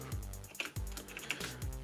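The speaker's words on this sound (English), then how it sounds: "So what we want to type in is wget" A computer keyboard is tapped in short bursts while a command is entered on a Raspberry Pi build, with quick close-up clicks and no voices.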